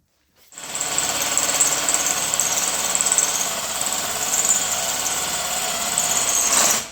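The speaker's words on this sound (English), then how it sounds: "I'm going to drill this one out to a larger hole so that the bolt just slides right on through it freely" Power drill boring out a hole in a metal part for a homemade bead roller, a continuous high whining grind that starts abruptly and holds steady for several seconds before cutting off, close and loud.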